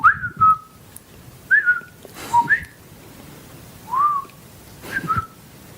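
A person whistles an improvised, made-up language in short, separate phrases, with bent and gliding pitches and brief pauses between them, close and clear.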